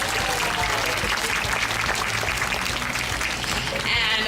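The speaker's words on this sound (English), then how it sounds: "Let's give them a big welcoming round of applause" An audience at the Vancouver Aquarium beluga show applauding to welcome two trainers: loud, continuous clapping from many people that swells slightly near the end, with no speech over it.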